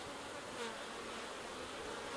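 Honeybees swarm defensively around an opened hive during a split inspection, a dense, continuous close buzzing with no voices.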